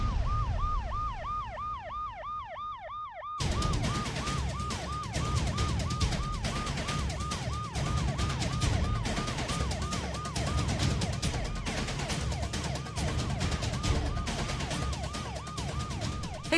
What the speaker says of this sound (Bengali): পুলিশের গাড়ি এসে গেছে।